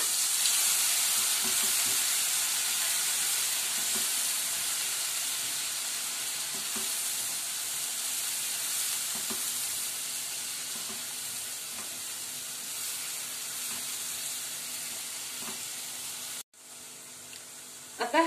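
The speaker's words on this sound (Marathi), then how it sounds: "गॅसची फ्लेम लहान करून आपण हा मसाला घालून घ्यायचा वाटलेला आणि तो छानपैकी परतून घ्यायचा" Ground masala sautéing in a pan over a lowered gas flame hisses and sizzles steadily and close by, with faint stirring scrapes, before a sudden cut near the end.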